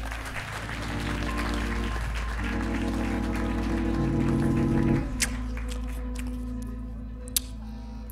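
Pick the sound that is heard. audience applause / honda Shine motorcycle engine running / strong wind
audience applause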